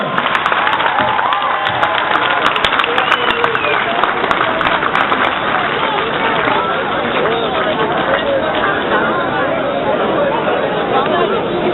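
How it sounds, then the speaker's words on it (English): A comic con crowd applauds Sir Patrick Stewart and Daniel Stewart with loud, sustained clapping and cheering that fills the hall, crowd chatter mixed into the long ovation. "Ladies and gentlemen, please, a huge round of applause for Sir Patrick and Daniel Stewart."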